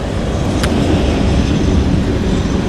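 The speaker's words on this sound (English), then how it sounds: "There goes the train." Loud, continuous rumbling roar of a train rushing by close at hand, with a broad steady wash of wheel and rail noise throughout.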